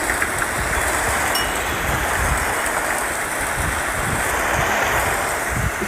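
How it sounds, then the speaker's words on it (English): Gusty wind with a light rain shower on a Bangalore afternoon, a loud steady broadband rush with low buffeting rumbles from the wind, continuous and without talk. "It's a gusty wind blowing actually."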